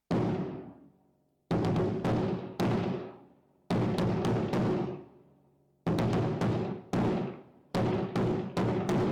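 A marching snare drum plays a second-section beat: sharp, close strokes in quick clusters and flams, separated by short pauses and ringing decays, with no other sound.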